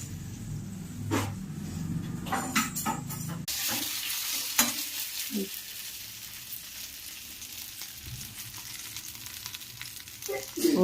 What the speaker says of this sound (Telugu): ఈ విధంగా ఇట్లా వేగేంత వరకు కలుపుకోవాలి.